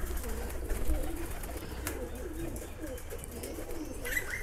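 Pigeons cooing softly in a rainy-season pigeon keeping setting, low repeated coos at moderate distance over a faint background hiss, with no talk.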